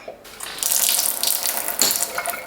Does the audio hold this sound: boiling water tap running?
yes